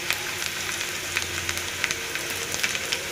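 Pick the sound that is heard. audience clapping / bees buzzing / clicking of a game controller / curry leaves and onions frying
curry leaves and onions frying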